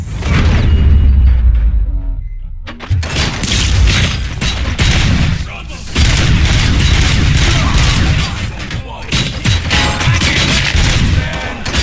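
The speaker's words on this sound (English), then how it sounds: "Gunshots?" Dense, sustained gunfire in the RoboCop and the Final Countdown video game crackles and booms almost continuously, loud and close, with rapid overlapping shots and no clear talking.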